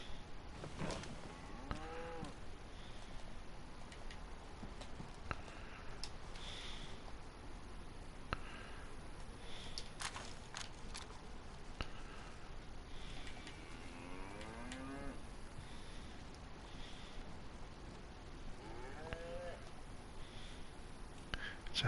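Herd of cows in DayZ, repeated drawn-out moos at moderate distance over a low ambient bed, spaced irregularly across the stretch with some faint breathy snorts.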